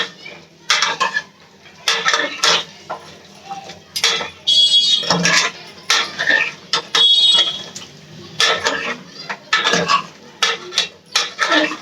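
Mutton already boiled in a pressure cooker is tipped into a pan of browned onions for a curry, giving repeated loud metal clatters of spoon and pan in short bursts with brief scraping between them.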